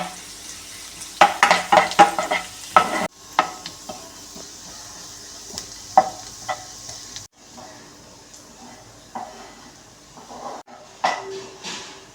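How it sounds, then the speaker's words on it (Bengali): Garlic fries in a pan while a utensil stirs and scrapes it, giving a soft sizzle under sharp clinks and scrapes, with brief voices now and then. "রসুন ভাজা।"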